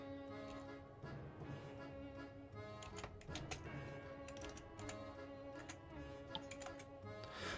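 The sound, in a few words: typing on a computer keyboard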